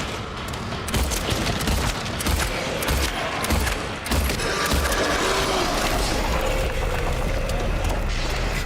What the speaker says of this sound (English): We got pistol. We're gonna use up the crappy ammo first.